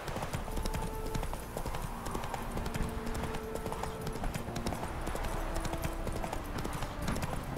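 Steady horse hoofbeats clip-clop at a brisk, even pace in The Witcher 3: Hearts of Stone, close and continuous, with faint tonal music drifting underneath.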